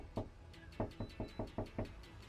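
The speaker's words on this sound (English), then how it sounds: "And when I'm knocking, right?" Knocking on a front door at a house porch during door-to-door solar sales, with about seven sharp, evenly spaced raps close by in a quick steady rhythm.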